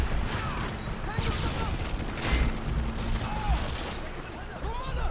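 Gunfire in the PC video game Call of Duty MW2, a dense, continuous clatter of rapid shots and bursts with mechanical clanks, loud throughout, under game noise and voices.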